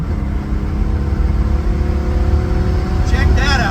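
A car engine fitted with a Holley Sniper 2300 EFI and a venturi restrictor plate runs close by at a steady, strong drone, rising slightly in a brief rev near the end, with voices faintly in the background.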